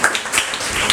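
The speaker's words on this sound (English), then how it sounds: "Let us clap for him." An audience at a school debate claps for a speaker, with a brief, loud burst of scattered hand claps that are close and uneven.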